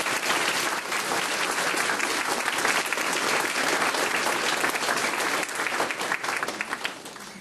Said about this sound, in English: If everybody would please give them a big round of applause.